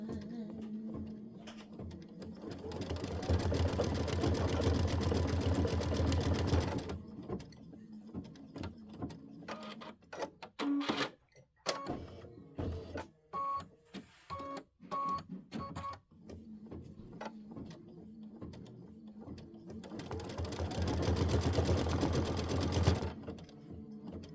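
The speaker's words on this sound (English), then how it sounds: "this is going to take 3 minutes of stitching" A home embroidery machine stitches a Kimberbell winter snowman quilt block. Loud, fast, even needle hammering runs for several seconds, breaks into shorter stop-start bursts and clicks midway, then resumes its continuous rapid stitching.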